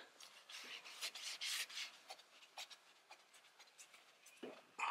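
A cloth wipes ceramic coating residue off black car paint, soft close rubbing strokes in short uneven bursts, fairly quiet.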